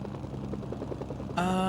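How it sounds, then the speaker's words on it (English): A helicopter in the PS2 game Mercenaries: Playground of Destruction gives a short burst of rhythmic rotor chopping that gives way to a bright, steady whine. "Gonna steal this helicopter instead, save ourselves the time and effort."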